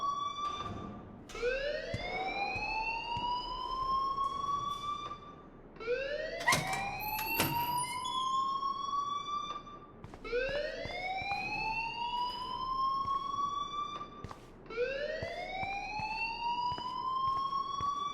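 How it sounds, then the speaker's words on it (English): A school fire alarm in the video game Life Is Strange wails in repeated rising sweeps, four long cycles that each climb and then cut off, steady and fairly loud, with no voices over it. "please turn off that alarm since that's your job"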